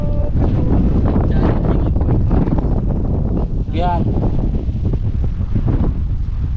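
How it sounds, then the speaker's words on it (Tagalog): Wind buffets the microphone out on a river during a catch-and-cook fishing outing, a constant rough rumble that runs the whole time under people talking nearby. "Grabe, ang sarap ng hangin."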